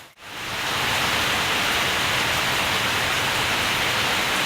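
Heavy rain falls on a rural Bangladeshi village, a dense, even hiss that swells in within the first second and then holds steady and loud.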